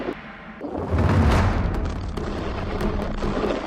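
An explosion from bombing in the Gaza Strip rolls in as a deep, heavy boom about a second in, then trails off into a sustained rumble and noisy aftermath.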